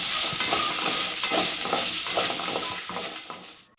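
Shallots, garlic and green chillies sauté in a hot pan, a loud steady sizzle broken by repeated rhythmic stirring scrapes, then cut off abruptly at the end; no one speaks.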